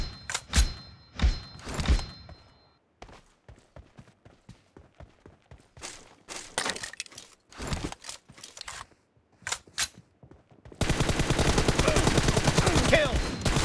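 Gunfire in a one-on-one shooting video game, with bursts of rapid shots separated by short pauses, then a sustained dense volley of automatic fire near the end.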